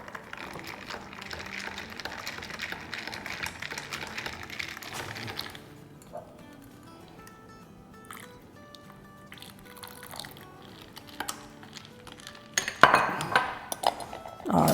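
A mint lemon summer drink in hot water being stirred, with several light clinks of a spoon against glass and some liquid swishing, fairly quiet, then a louder burst of clatter near the end.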